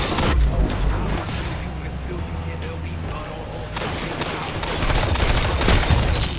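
Rapid bursts of pulse rifle fire from the Outbreak Perfected in Destiny, steady repeated volleys close up and loud throughout, mixed with other game combat noise.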